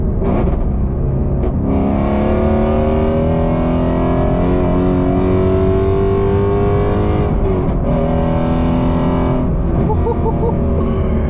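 A 2018 Porsche 911 GT3 with manual gearbox roars loud and steady, revving through rising gears with brief dips between shifts, heard from inside the car.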